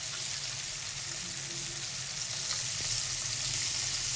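Chicken zinger pieces fry in a pan with an even, close-up roar of hissing oil that stays constant from start to finish, with no gaps or pauses.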